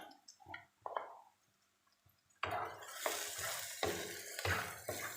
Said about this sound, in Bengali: উপকরণগুলো খুব ভালোভাবে মিশিয়ে নেব।